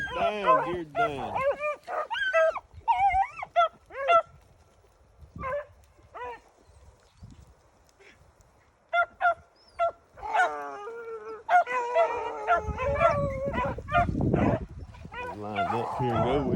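Beagles running cottontail rabbits in high wind bay and yelp in bursts, some close and some farther off, with quiet gaps between, and a gusty wind roar swells near the end.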